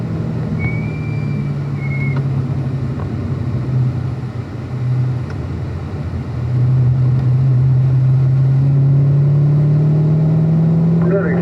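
Race car accelerating down the front straight at Spring Mountain Motorsports Resort, a steady loud engine drone rising gradually in pitch from the cockpit, with a voice talking over it.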